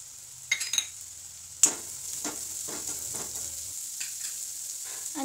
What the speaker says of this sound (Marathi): आणि आता आपला कांदा परतून झालेला आहे, कारले टाकून घेऊया आपण आणि हे चवीपुरतं मीठ टाकूया.